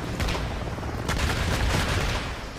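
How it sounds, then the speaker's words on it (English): Chopper gunner killstreak in Modern Warfare 3 fires in a dense, continuous burst of rapid gunfire, loud and rattling with a few heavier thumps mixed in. "I destroyed it with the chopper gunner"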